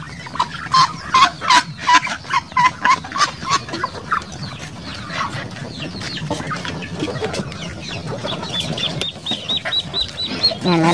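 Backyard breeder chickens and a rooster cluck close by in quick, uneven bursts, with higher chirps coming in near the end and a voice talking faintly underneath.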